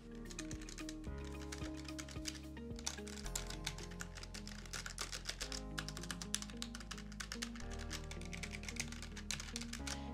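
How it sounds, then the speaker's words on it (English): Keys clack on a Logitech G915 Lightspeed keyboard with linear switches, typed about a foot away in a steady run of crisp, rapid taps that fill the whole stretch. "now I'm gonna click some keys so you can hear what they sound like"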